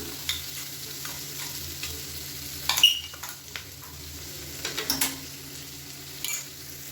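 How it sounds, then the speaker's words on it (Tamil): Green beans with a ground spice powder being fried in oil in a pan, a steady low sizzle broken by a few close scraping stirs, with no talking. "இதில் பார்த்தீங்கன்னா பீன்ஸ் ஓரளவுக்கு நல்லா வறுபட ஆரம்பிச்சிருச்சு."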